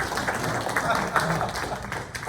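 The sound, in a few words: audience applause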